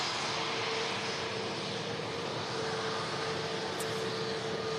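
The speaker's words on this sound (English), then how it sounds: "A320 Neo on the way in" An EasyJet Airbus A320neo arriving from Geneva at Manchester Airport gives a faint, steady engine roar, a broad even wash of noise with a thin tone running through it.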